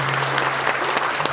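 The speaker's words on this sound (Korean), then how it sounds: "큰 박수 부탁드리겠습니다" Steady, dense applause from an audience at a Doosan company New Year opening ceremony in Korea, continuous clapping with a faint hum underneath.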